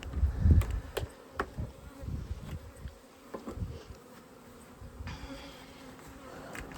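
Honeybees buzz steadily from an opened hive nucleus, a close, continuous drone broken by soft thumps and brief handling knocks, with no voices.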